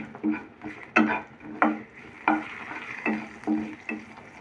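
Onions and half a teaspoon of turmeric fry in a pan for an idli snack, marked by a soft sizzle and regular scraping strokes of a spoon roughly every half second.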